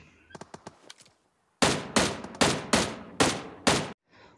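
Automatic M16A4 rifle fire in the PUBG video game, several light shots and then a series of loud, sharp bursts in quick succession, close and clear with brief gaps between them.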